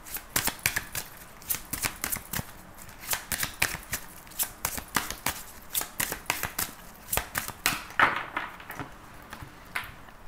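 Tarot cards are shuffled and cut by hand in a steady run of crisp, fluttering riffles and soft slaps, close up and fairly quiet, with no speech.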